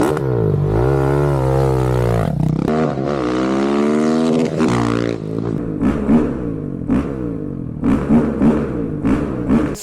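KTM 690 SMC R single-cylinder motorcycle with an aftermarket exhaust, loud and close, revved in long rising and falling sweeps, then blipped in short sharp bursts with popping in between.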